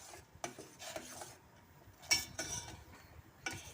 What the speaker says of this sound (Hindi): अब हम इसे इसमें अच्छी तरह से चम्मच से